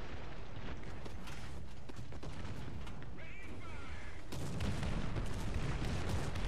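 Artillery shells hit a tank in a video game: dull booms and rumbling impacts over a mechanical din, with a heavier strike partway through.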